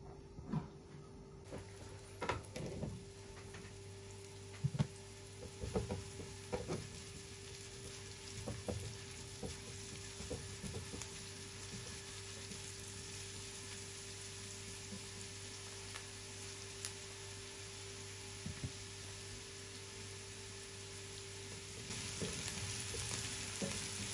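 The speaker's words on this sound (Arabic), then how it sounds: "وبقلي البصلة على الغاز" Onion with a little salt frying in a pan on a gas stove, a steady soft sizzle running throughout with occasional clinks and stirring knocks, close and fairly quiet, no talking.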